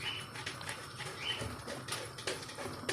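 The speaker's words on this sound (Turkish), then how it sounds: "Muhabbet kuşun da sesi geliyor." A pet budgerigar chirps in short, high, scattered bursts in a home kitchen where apricot pestil is being cooked, with kitchen noise and a steady background hum underneath.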